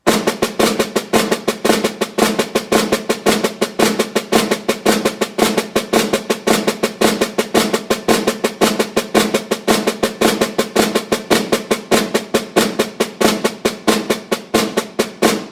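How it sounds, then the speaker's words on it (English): A snare drum plays the flam accent rudiment, a fast, steady stream of crisp alternating flammed strokes with regular accents, loud and close, with no other sounds. "Flam accent, which is alternating,"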